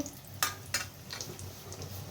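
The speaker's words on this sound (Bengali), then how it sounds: "এক হাতে ধরে রয়েছি, এক হাতে ভাজা চলছে" Kochuri frying in a pan of hot oil gives a soft, quiet sizzle, with a couple of sharp bursts of spluttering as the pieces are moved about.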